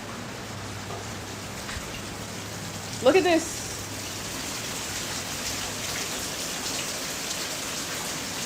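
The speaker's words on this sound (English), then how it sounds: "It's pouring. It's pouring rain." Heavy rain pours outdoors in Jamaica, a dense, steady hiss filling the whole stretch, with a brief spoken remark partway through.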